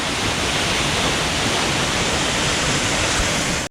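Lovers Leap Waterfall near Nuwara Eliya, Sri Lanka, roaring as a loud, steady broadband rush of falling water close by, unbroken and with no talk, cutting off abruptly at the end.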